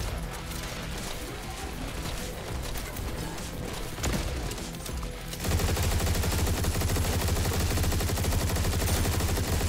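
Rapid gunfire from a weapon in the shooter game Turbo Overkill, with dense, continuous bursts that grow louder and fuller about halfway through, layered over other busy game effects.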